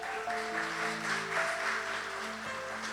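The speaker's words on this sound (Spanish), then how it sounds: "Dele un fuerte aplauso al Señor." A church congregation applauds the Lord, steady moderate clapping from the crowd with sustained music or organ tones playing underneath.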